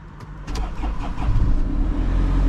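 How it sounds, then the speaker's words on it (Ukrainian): A car engine is cranked and catches, a low rumbling motor that rises steadily and settles into a close, continuous idle, heard on its own with no talk. "Відкрив машину, зараз перевіряємо пуск."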